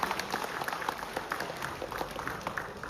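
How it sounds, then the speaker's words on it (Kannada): An audience at a Kannada Sangha induction ceremony claps to welcome a guest, moderate applause of many hands with a steady, dense patter throughout. "ಜೋರಾದ ಚಪ್ಪಾಳೆಯೊಂದಿಗೆ ಪ್ರವೀಣ್ ಶೆಟ್ಟಿ ಅವರನ್ನು ಸ್ವಾಗತಿಸಿ"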